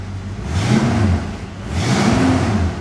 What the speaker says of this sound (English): All stock dual exhaust, GT exhaust.